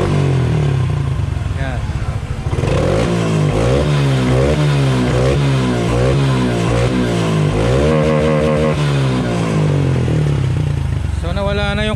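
A Honda XRM 125 Fi motorcycle that had been misfiring with a blinking check-engine light starts up close by and idles loudly, then revs in repeated rising and falling surges, with someone speaking briefly over it.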